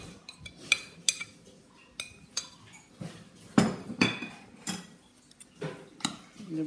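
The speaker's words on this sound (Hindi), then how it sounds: "जब इस तरह यह चमचों की मदद से हम इसको अच्छी तरह मिक्स कर लेंगे।" Spoons clatter and scrape in a bowl while mixing Russian salad with mayonnaise and cream, giving a steady run of close, irregular clinks and knocks with no talking.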